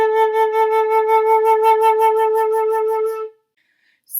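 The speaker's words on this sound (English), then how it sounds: "if I want to demonstrate that fast vibrato on my instrument" An instrument holds one steady note with a fast, even vibrato pulse for about three seconds, clear and alone, then stops abruptly into silence.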